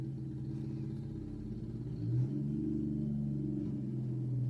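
An older truck's engine runs with a steady low rumble, its pitch swelling briefly as it revs, then settling back into a rough, continuous drone.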